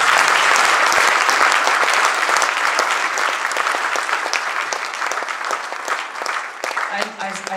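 A large audience at a closing ceremony in an auditorium applauds with a dense, sustained clapping that stays loud and close for several seconds, tapering slightly near the end, with a voice faintly under it.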